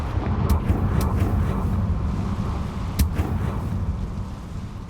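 Confringo blasting spell from the Hogwarts Legacy video game: a dense, rumbling fiery burst with sharp cracking impacts near 0.5 s and 3 s over a steady loud roar.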